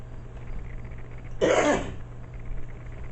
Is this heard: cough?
yes